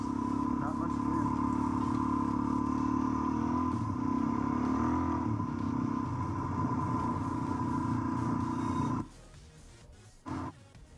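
A Suzuki DRZ dirt bike engine idling and rumbling steadily off-road in a back-country setting, loud and close for about nine seconds before cutting off, leaving quiet with a brief knock afterward.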